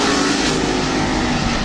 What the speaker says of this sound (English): Sound like an engine amiss in one of our cars on the track as Degg goes into the lead.